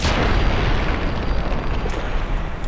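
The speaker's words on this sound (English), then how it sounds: "We're getting an explosion, babe." A deep, rumbling video game explosion fills the whole moment with a dense, loud boom and a sustained crackling roar that stays strong without fading.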